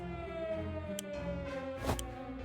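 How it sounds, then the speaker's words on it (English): A warning siren in the survival game 60 Seconds! Reatomized wails with a slow falling tone, steady and moderately loud beneath layered game music and effects, with a brief swell near the end. "I think I hear a siren."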